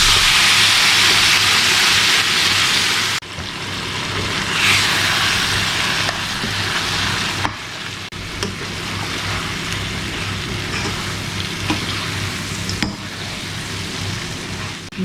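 Cooked mutton dropped into a pan of fried spices and pepper masala: a steady, close sizzling hiss that drops slightly in level after a few seconds, then continues evenly with faint stirring clicks.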